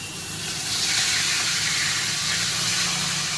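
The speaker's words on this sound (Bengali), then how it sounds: "এবার কিন্তু মাথাটা ভাজা হবে" A fish head coated in salt and turmeric fries in hot oil, giving off a steady, loud hiss of spitting oil that swells slightly and holds constant throughout, with no talking.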